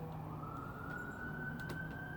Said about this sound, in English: I suppose I'll just let the sirens play through because they're always going to be there.